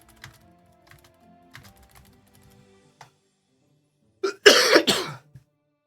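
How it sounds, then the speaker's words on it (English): Several short, harsh coughs from a person with a sore throat, loud and close, arriving in a quick burst after quiet keyboard typing in a voice-chat tabletop game session. "I'm just gonna have small coughs sometimes"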